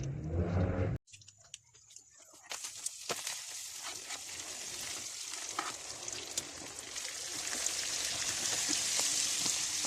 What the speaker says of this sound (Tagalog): Ang mga batang kumakain ng kamatis.